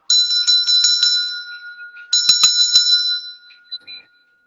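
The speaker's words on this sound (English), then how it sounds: "I'm going to ring the heart chakra bell, by the way." A bright heart chakra bell rings clearly and sustains with a shimmering decay, then is struck again, ringing out alone before fading away.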